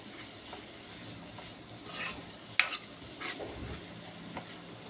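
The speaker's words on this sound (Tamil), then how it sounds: "நல்லா பச்சை வாசனை போகிற அளவுக்கு வறுத்துக்கோ." Masala frying in oil with eggplant for a curry gives a faint, low sizzle, broken by a few soft scraping strokes from stirring.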